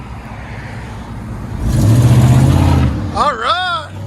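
A 1997 Chevy Silverado 1500 5.7L V8 with a loud aftermarket exhaust revs up with a deep exhaust roar for about a second, then settles back as voices call out over the idle.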